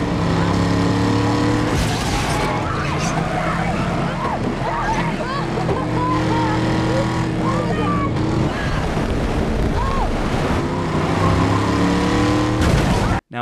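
Roaring car engines and tire noise from a movie car chase, loud and continuous with repeated revs and pitch swoops as vehicles race past, mixed with film soundtrack.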